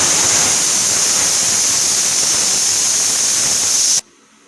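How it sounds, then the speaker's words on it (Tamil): A pressure cooker boiling green peas with salt vents steam through its whistle in a loud, steady hiss with a piercing edge, which stops abruptly after about four seconds. "இப்போ வந்துட்டு குக்கர் விசில் வந்துடுச்சு."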